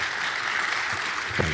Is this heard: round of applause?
yes